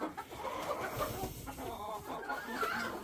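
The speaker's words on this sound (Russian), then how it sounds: "Тут получается вроде 9 курочек, да?" A backyard flock of about ten hens and four roosters clucking and murmuring nearby, continuous soft overlapping calls with a faint rustle, fairly quiet and without talk.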